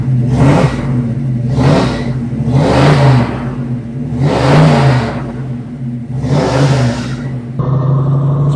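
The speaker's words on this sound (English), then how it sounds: "Listen to the sound of that motor." A 1971 Chevelle SS 454 convertible's big V8 revs repeatedly in five strong surges, each rising and falling back to a deep rumbling idle, close and loud.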